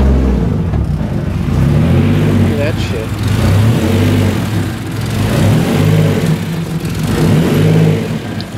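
A 1JZ engine swapped into a Nissan S14 240SX with an exhaust leak runs and revs, a steady rough droning rumble that rises and falls, up close and loud, with people talking over it.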